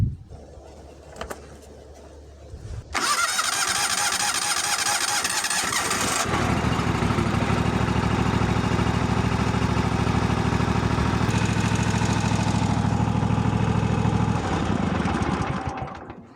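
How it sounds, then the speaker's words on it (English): A Kawasaki 15–23HP engine cranks briefly, catches and fires up with a loud burst, then settles into a steady, even idle that runs on close by until it cuts off at the end. "start it up and idle it for about a minute or two"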